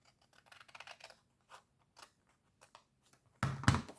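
Scissors snip through material for a simple box, a few faint cuts spread apart and then one louder, close crunching cut at the end, no voices.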